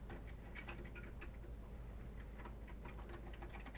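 A 1960s Smith Corona Forecast typewriter clatters with quick irregular keystrokes, faint and soft, the light clicks coming in uneven bursts over a low background hum.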